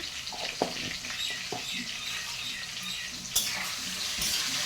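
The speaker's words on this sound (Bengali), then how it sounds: "তারপরে ভালো করে ভেজে নিচ্ছি" Potatoes frying in a pan with turmeric, a steady close sizzle with a few sharp clinks and stirring knocks, no talking.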